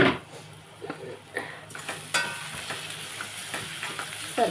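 Chili powder fries in a pan for egg curry while a spoon stirs it, a soft steady sizzle broken by scraping strokes and light metal clinks, close and continuous with no talking.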